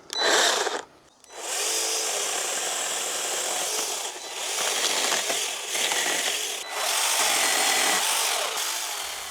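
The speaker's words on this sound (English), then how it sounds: "So this is the PR100E from STIGA, their garden pruning saw." A STIGA PR100E battery mini chainsaw, a garden pruning saw with a 1/4 inch chain on a 12 cm guide bar, whines loudly as it cuts through branches. A short burst comes first, then a brief pause, then a long sustained cut with small dips.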